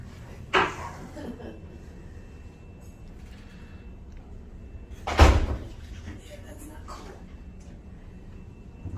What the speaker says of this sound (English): You want to close that door? Yeah, I'll close it.